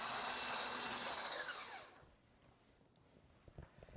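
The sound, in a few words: whisking egg yolks until fluffy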